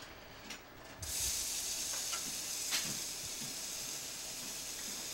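Pyogo mushrooms hit a hot pan with marinated beef for bibimbap and a steady close sizzle starts abruptly, holding an even frying hiss with a few light stirring clicks and no talking.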